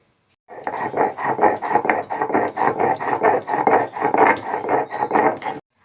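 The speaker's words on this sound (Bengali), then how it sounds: "আমি এগুলো ভালো করে শিলে বেটে নেব।" Ginger, mustard seeds and radhuni ground on a stone slab, a loud, close, rhythmic rasping of stone against stone in about a dozen even back-and-forth strokes.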